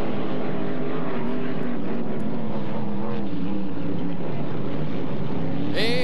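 A racing hydroplane roars through a heat at the 1990 Valleyfield regatta, a loud sustained engine drone with rising and falling pitch as it accelerates around the course, with a commentator's voice faintly mixed in.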